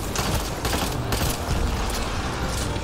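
Disruptor-ammo gunfire from Mass Effect Andromeda, dense rapid bursts of shots crackling close and loud without pause, with mechanical clatter mixed in.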